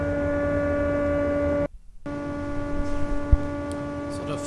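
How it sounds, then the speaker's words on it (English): A workshop dust collector runs with a steady, droning mains-like hum and layered tonal harmonics. The sound cuts out abruptly for about half a second partway through, then resumes. "So the first test is not a success, as you can hear. The dust collector is running."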